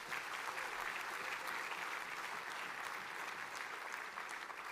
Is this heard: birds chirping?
no